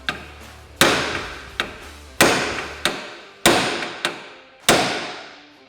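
Hammer striking a steering arm on a Kawasaki Teryx KRX 1000 ATV to separate it from the A-arm, eight sharp metallic blows in an uneven rhythm, close and loud, each ringing out briefly.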